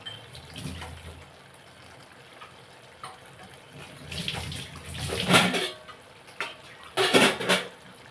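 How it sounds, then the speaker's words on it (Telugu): Water splashes and pours into a metal pot of chana dal and brinjal curry in a few short bursts, close by, with quiet handling noises in between. "కొంచెం వాటర్ వేద్దాం"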